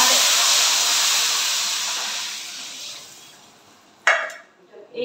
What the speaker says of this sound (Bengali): ডালটা লাল করে ভেজে নিয়েছি, এবার জল দিয়ে দিচ্ছি।